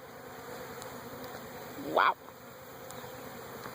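Honeybees buzzing around an open beehive during a hive inspection, a steady low insect drone throughout with one bee flying close and loud for a moment midway, and a brief exclamation from a person.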